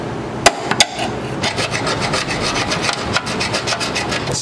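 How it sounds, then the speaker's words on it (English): A hand file rasps across a welded steel sway bar bracket on a Honda Civic del Sol, loud close strokes in a quick repeated rhythm after a couple of sharp knocks. "We're definitely gonna have to file it down to make it flat so that the bolt going in doesn't"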